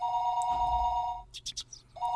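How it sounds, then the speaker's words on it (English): An old telephone bell rings in the Higurashi When They Cry visual novel, one loud sustained ring cut by a short pause, then ringing again, alone with no talk. "It was then I noticed that the phone was ringing."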